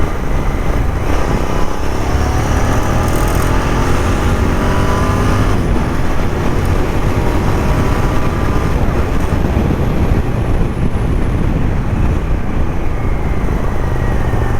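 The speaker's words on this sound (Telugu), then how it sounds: "బైక్ మన దాంట్లో నుంచి వస్తుంది సౌండ్." Royal Enfield GT650 motorcycle ridden through Hyderabad at night, a loud continuous engine drone with rushing wind, steady throughout from the rider's position, no talking.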